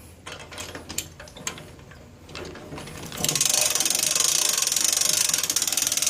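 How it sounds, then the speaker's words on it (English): A 500kg Creston hand winch clamped to a table spools in its cable: sparse, irregular ratchet clicks first, then a louder, steady, rapid run of pawl clicking close by. "So I've clamped the winch on a table so I can spool it easier."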